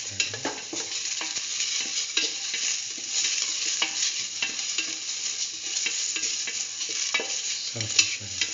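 Shallot pieces sauté in a hot pan with a steady bright sizzle, while a utensil stirs and scrapes in frequent light taps, close and alone.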